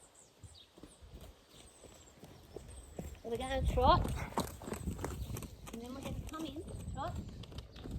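A horse moves from walk into trot, its hooves giving a soft rhythmic clip-clop on the ground beneath a rider's voice and some breathy snorts.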